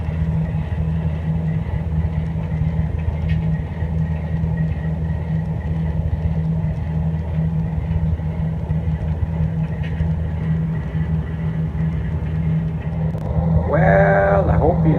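A steady low rumble of a model passenger train running along its track past a station, continuous and even, with a brief clattering change near the end.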